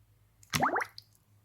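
A perforated fishing bait feeder drops into water with a single close plop and a brief bubbly gurgle as it sinks, followed by a faint drip in near silence.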